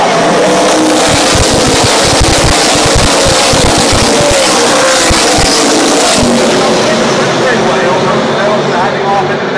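NASCAR trucks roaring back up to speed on a restart at Texas Motor Speedway, a loud dense pack of engines droning continuously throughout, with a commentator talking over the racing noise.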